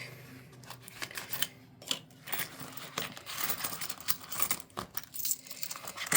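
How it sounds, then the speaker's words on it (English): Paper banknotes being pulled out and handled for weekly cash stuffing into budget envelopes, with a steady run of crisp crinkling and rustling, close and fairly soft, with no talking. "Okay, so let's get the money out for next week."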